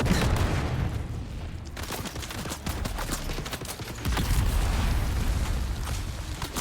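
Grenades go off in a combat video game, producing a rapid jumble of bursts and booms over a constant rumble of battle. The blasts are close and moderately loud, and no voices are heard.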